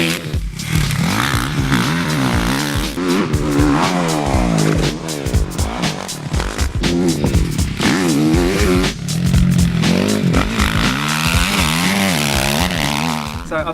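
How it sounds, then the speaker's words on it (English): A Suzuki RM-Z450 motocross bike ridden on a dirt track, its engine revving up and down in repeated surges and shifts, loud and close throughout, with no talk over it. "today we're testing Cody Cooper's championship winning RM-Z450"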